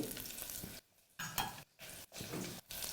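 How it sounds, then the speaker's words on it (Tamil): Carrots, green peas, potato and capsicum sauté for veg biryani, quietly sizzling in the pan as a spoon stirs them in bursts, with brief pauses between strokes. "உருளைக்கிழங்கு, குடைமிளகாய் நன்றாக இதில் வதக்கணும்."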